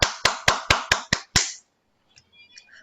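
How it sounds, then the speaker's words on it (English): Seven sharp, evenly spaced claps ring out in quick succession, close and crisp, at a Bangladesh Youth Toastmasters Club educational meeting honoring a speaker, followed by near silence with faint rustles. "I would like to make some claps for you."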